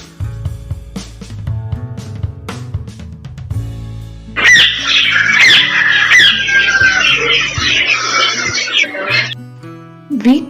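A parrot lets out a loud, harsh run of squawks and screeches lasting several seconds, after a stretch of spoken words and before the voice resumes.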